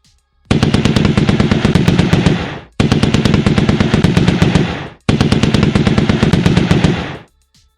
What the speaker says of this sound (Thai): ปืนกลหนักดาสกาดในมือของกัมกาดำดังรัวแน่นเหมือนประทัดแตก